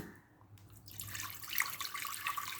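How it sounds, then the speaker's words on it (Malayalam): Water pours in a steady, rushing stream into a pressure cooker, starting after a brief quiet moment and continuing to the end, with no voices. "ഈ കുക്കറിലേക്ക് നമ്മൾ എടുത്ത് വെച്ച വെള്ളം ഒഴിച്ച് കൊടുക്കുകയാണ്"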